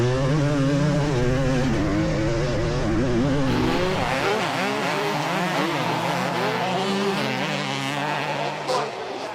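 Two-stroke motocross bikes race around a track, their engines screaming and rising and falling in pitch as they rev through turns, with several machines overlapping loud and close.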